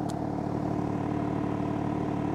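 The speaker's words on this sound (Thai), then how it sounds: "เสียงรอบเดินเดาเป็นไงอ่ะลองฟัง" A BMW M3 Touring with its S58 inline-six idles up close, a steady, even rumble with a fine pulsing texture that holds constant throughout, with no voices.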